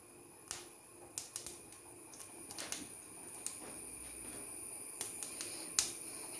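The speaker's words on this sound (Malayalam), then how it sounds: "കടുക് പൊട്ടിയിട്ടുണ്ട്" Mustard seeds popping in hot oil for a beef and plantain curry: a dozen or so sharp, irregular pops and crackles, some in quick clusters, over a faint sizzling background.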